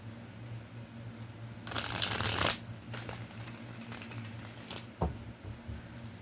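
A tarot deck is shuffled close by. One loud riffling burst lasts under a second, then softer card handling and taps follow over a faint steady background hum.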